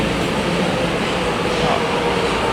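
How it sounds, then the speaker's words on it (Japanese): Tokyo Metro Marunouchi Line train pulling into Tokyo Station underground, a steady loud rumble and roar of the railcars filling the platform throughout. "地下鉄丸の内線の東京駅に着きました。"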